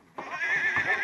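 A horse gives a sudden, loud whinny that rings out for about a second, with faint hoof clatter beneath it.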